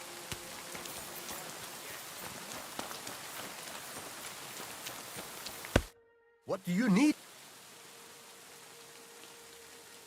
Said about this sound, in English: Oh, great. Rain.